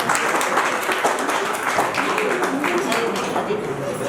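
An audience at a Hindi film premiere event claps steadily, a continuous patter of applause at moderate volume with a voice speaking over it.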